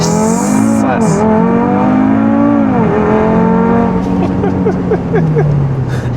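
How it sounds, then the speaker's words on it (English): A modified-exhaust Audi RS3 (294 kW, 400 hp, 480 Nm) launches hard from inside the cabin, engine howling up through quick gear changes with a loud, rising exhaust note and brief drops between shifts. "Oh, the launch control on this car is so brutal."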